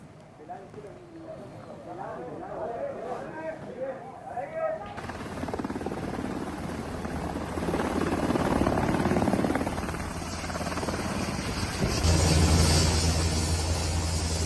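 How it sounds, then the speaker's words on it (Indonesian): Israeli military helicopter landing at a hospital helipad, its rotor building into a loud, steady whirring roar after a few seconds of speech, growing louder and closer toward the end. "helikopter militer Israel mendarat di helipad rumah sakit"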